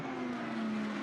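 A BMW V8-hybrid GTP prototype race car at the 2025 24 Hours of Daytona roars past with a loud, steady, high engine drone for about a second, with no voices.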